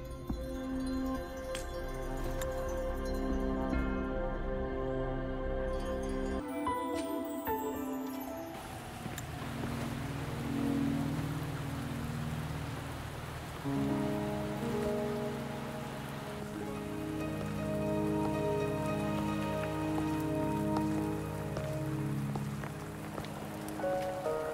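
Steady rain pours throughout a Wuthering Waves cutscene, a continuous dense patter mixed with layered music and ambient tones, with no talking.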